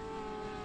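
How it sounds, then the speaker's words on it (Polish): A steady, buzzing whir with a constant pitch from a small drone hovering nearby outdoors on Iceland's Snaefellsnes peninsula, continuous throughout with no speech. "słychać drona"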